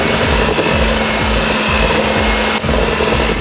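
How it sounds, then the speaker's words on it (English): An electric mixer runs steadily and loudly while mixing dough ingredients for treats, a continuous close whir with faint rhythmic thumps throughout. "you just use your mixer just to get everything evenly mixed up"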